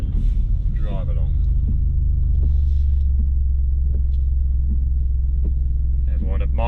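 A Maserati GranTurismo V6 pulls away gently in drive, its engine a steady low rumbling drone heard from inside the car, with people talking over it at the start and end.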